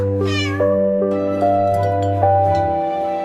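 A kitten meows loudly and close several times in a row, drawn-out mewing calls set over a soft musical backing.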